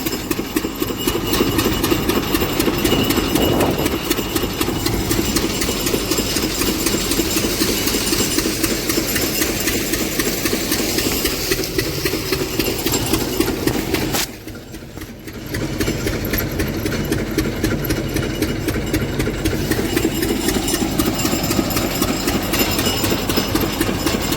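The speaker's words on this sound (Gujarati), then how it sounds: "તો ઇન્દ્રો ફાઇનલી હલર ચાલુ કરી દીધું હે" A thresher (huller) machine runs while threshing rajma kidney beans, giving a loud, continuous mechanical drone with a fast rhythmic chatter. The sound drops off briefly about midway, then returns at full strength, with no voices.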